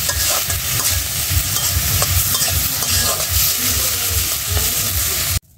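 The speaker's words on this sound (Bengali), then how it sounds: "শুকতের মধ্যে আমি জল দিয়ে দিছি" Shukto curry simmering and sizzling in a pan as water goes in, with steady bubbling hiss and stirring scrapes throughout before cutting off abruptly at the end.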